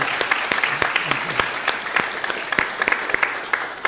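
A church congregation claps steadily throughout an Easter service, dense and energetic applause with sharp individual claps standing out, filling a large room.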